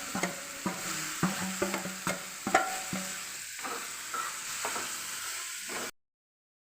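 A spatula stirs chicken masala, chili powder and cumin frying in a pan, with repeated scraping strokes over a steady sizzle before the sound cuts out.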